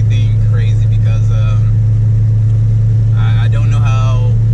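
An LS-swapped Nissan 280Z drives on a smooth road, its engine a loud steady low drone heard from inside the car while someone talks over it.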